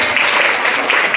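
Brief burst of audience applause at a budget delegate orientation meeting, a steady patter of clapping hands, close and loud.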